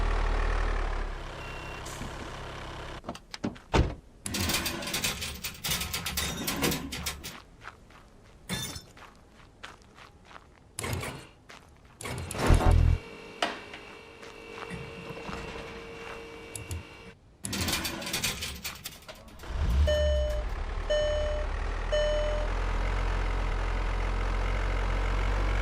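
A car transporter truck rumbles in at a car dealership, with engine surges and hissing brakes, then a run of evenly spaced reversing beeps sounds near the end.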